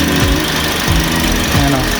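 Car engine running steadily after a new engine support has been fitted, with a low continuous rumble and faint periodic knocks, loud and close throughout.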